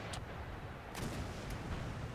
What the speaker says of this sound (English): We've got the howitzers bombarding the place right now.